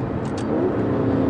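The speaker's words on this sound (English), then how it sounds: "Downshifts are really great, actually." An Aston Martin DB11 engine revs up briefly during a downshift on a bumpy road, a quick throaty blip close by.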